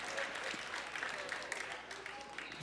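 A crowd at the Bethesda E3 2018 press conference claps for a glow-in-the-dark map, a faint, distant spatter of applause under a murmuring hall.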